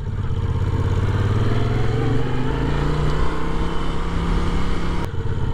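Steady mid-pitched engine drone from a Moto Guzzi V7 motorcycle being ridden, pitch rising then easing as it decelerates, continuous and close with wind and road noise throughout.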